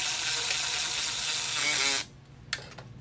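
A power tool whirs steadily as it tightens a steel heat shield bolt on a 1986 Merkur XR4Ti, then cuts off abruptly, followed by a couple of faint metallic clicks.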